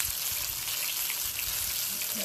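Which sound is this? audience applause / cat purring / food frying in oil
food frying in oil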